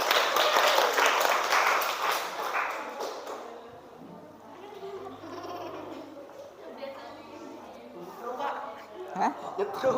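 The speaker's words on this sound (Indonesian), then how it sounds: "kasih tepuk tangan untuk temannya." Students in a classroom clap for a classmate in a lively burst that fades after a few seconds, followed by quieter room noise, chatter and scattered thumps.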